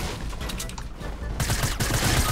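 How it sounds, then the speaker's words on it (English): Rapid bursts of gunfire from a Fortnite match crackle in quick succession, dense and sharp, getting louder in the second half. "I shot him!"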